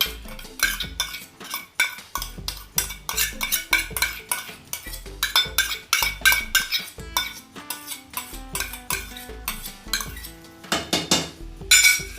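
Whole urad dal poured into a pot over a low gas flame and stirred, with steady metallic scraping and clinking of a spoon against the pot, repeated close-up strokes throughout.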